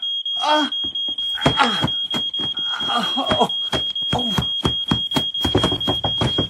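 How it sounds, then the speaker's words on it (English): A continuous high-pitched smoke alarm tone sounds throughout while people talk over it and something thumps rhythmically nearby. "Smoke alarm. Is there a fire?"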